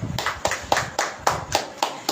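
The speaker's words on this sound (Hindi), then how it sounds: "सब जन ताली बजाएं।" A church congregation claps in unison, eight sharp, evenly spaced claps in a steady beat, loud and near.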